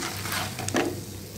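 Dry red chillies and spices roasting in a pan, a continuous dry crackling sizzle with brief scraping stir strokes, close and steady throughout.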